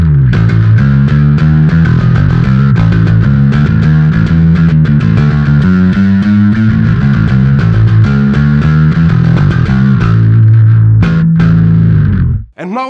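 Loud, gritty bass guitar through a Darkglass-style distortion, playing a continuous riff of thick sustained notes, ending abruptly with a final cut-off.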